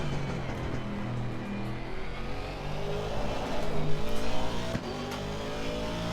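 Race car in Assetto Corsa Competizione drives with its engine droning steadily, rising and falling as it revs up and settles, with one brief sharp knock partway through.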